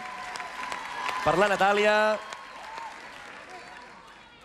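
At a Catalan spelling contest final, an audience applauds a contestant with a moderate, even patter of clapping. A voice speaks briefly over it partway through, and the clapping continues quietly afterward.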